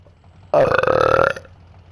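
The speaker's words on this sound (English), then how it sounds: "Every time I burp, I can hear it clearly through my headset next to me." A single loud close burp, about a second long, from a gamer at a headset during a drag car racing session, voiced and rumbling, with quiet room around it.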